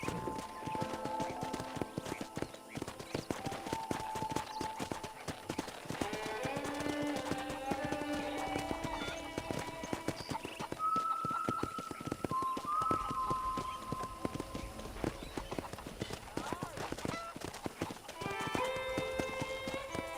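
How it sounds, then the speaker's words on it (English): Steady clip-clop of horse hooves trotting throughout in the video game Red Dead Redemption, with occasional whinnies and background music, no speech. "let's see if you can still ride a horse"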